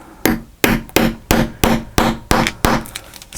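Metal rivets hammered into a Stamperia Blues mini album page: eight sharp, evenly spaced hammer strikes, close and loud, each with a brief ringing decay, no talk.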